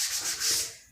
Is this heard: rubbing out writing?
yes